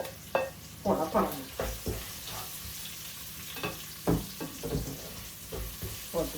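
Green chilies, garlic, ginger, curry leaves and cumin sautéing in a pan, a soft sizzle broken by scraping stirs, while a voice speaks intermittently over the cooking.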